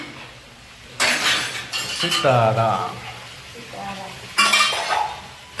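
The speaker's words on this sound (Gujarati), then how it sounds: "શ્રીમતીજી એના કામમાં અત્યારે શું છે ઠામ વાસણનું એવું બધું હાલે" Dishes and metal utensils clinking and clattering as they are washed in a village home, with sharp bright clanks in a few bursts and a person speaking between them.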